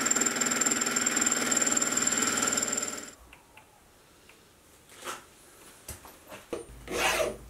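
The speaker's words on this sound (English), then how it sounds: "I'll give it a quick deburr and then we can machine the other sides." A file rasps rapidly back and forth across a freshly machined steel vise piece on a milling machine, loud and rhythmic for about three seconds, then a few faint scrapes and clinks follow.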